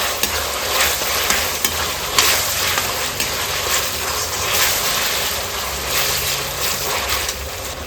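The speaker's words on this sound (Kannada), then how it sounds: "ಇವಾಗ ನಾವು ಕಲಕಿ ಇಟ್ಕೊಂಡ ಕಾರ್ನ್ಫ್ಲೋರ್ ನೀರನ್ನು ಹಾಕೊಳ್ಳೋಣ." Cornflour slurry poured into a pan of chilli chicken crackles and sizzles loudly and continuously, with repeated metallic stirring scrapes and clatter over the dense hiss.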